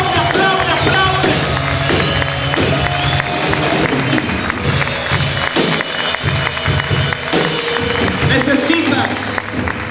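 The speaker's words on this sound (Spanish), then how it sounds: "Aplaude, aplaude, aplaude, aplaude." A church congregation applauds in a steady, loud wash of clapping and cheering, with a preacher's voice speaking over the crowd.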